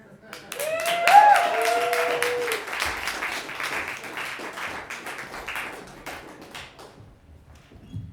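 An open-mic crowd applauds a poet after his set, steady clapping that swells quickly, with voices whooping and calling out over it, then tapers off toward the end.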